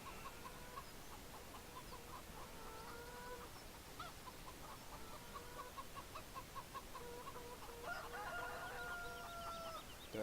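Chickens cluck and murmur repeatedly in the chicken area of the Farming Simulator 17 Autumn Oaks farm, soft steady calls over a hissy background, growing a little busier near the end, no talking.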